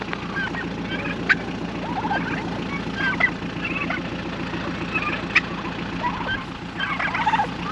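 Turkeys gobble in a flock outdoors, with several gobbles rising over a continuous murmur of clucking and chattering birds, near and fairly loud.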